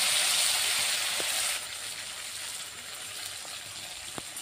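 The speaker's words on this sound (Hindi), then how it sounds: "गोटे चामच सोरिष दबा। सोरिष आमर फुटीगला" Mustard seeds splutter in hot mustard oil in a kadai in a village kitchen, giving a steady hiss that softens partway through, with a few sharp pops.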